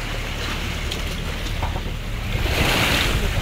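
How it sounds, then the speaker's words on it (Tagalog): Strong wind and rough waves roar steadily around a small fishing boat at sea in worsening weather, with the surge building louder toward the end. "Medyo malakas na po ang hangin."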